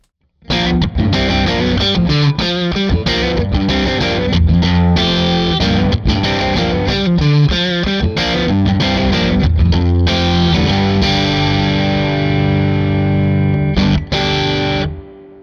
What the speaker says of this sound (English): And back on for the Pulsar reverb.